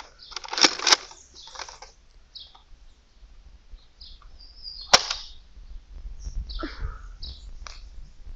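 A single crisp snap from a Nerf Vortex Praxis foam dart launcher, with soft handling clicks before and quiet outdoor ambience after.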